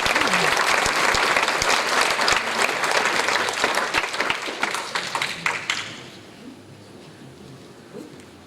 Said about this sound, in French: on peut applaudir Romain